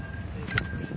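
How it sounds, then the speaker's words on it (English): A bicycle bell gives a single quick ring during an outdoor bike ride, sharp and bright against a low background rumble. "Okay, enough with the bell."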